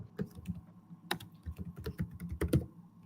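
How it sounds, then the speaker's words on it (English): Close computer keyboard typing in quick, irregular clusters of clicks, with a few louder key strikes scattered among softer taps, with no one talking. "Sorry, I'm typing."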